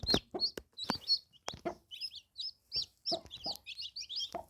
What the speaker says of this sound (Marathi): बघा चिव चिव चिव चिव चिव चिव करतायत